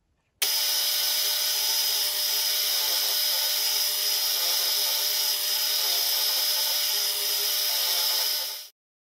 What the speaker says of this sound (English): I'm just going to mill out the slot for the flint wheel